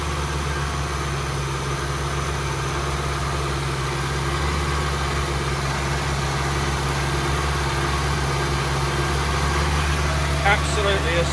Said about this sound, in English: So that engine sounds as sweet as a nut.